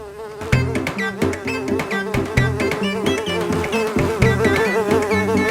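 Bees swarm around a large beehive in an animated Hindi story, their buzzing loud and continuous with a pulsing, tonal drone.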